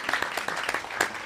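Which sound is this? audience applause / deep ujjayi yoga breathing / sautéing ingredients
audience applause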